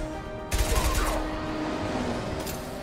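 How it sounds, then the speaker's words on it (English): Submachine gun fire in Mass Effect 2, a sustained loud burst of rapid shots starting abruptly and rattling on for about two seconds before tapering off. "I hate this SMG"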